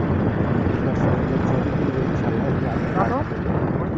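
An airplane taxis slowly toward a 2.5-kilometre runway at Shamshernagar, a steady broadband engine drone that is loud and close, with people talking over it.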